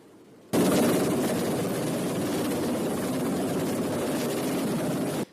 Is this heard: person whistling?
no